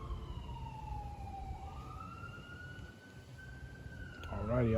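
An emergency vehicle siren wails past with a steady rising and falling tone. It starts fairly loud, fades a little and swells again as the vehicle nears, over a constant hum of background noise.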